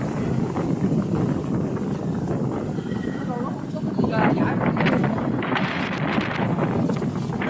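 Steady wind blowing across an open beach at Yorkeys Knob, a broad continuous roar and buffeting over the microphone throughout, with people talking now and then beneath it.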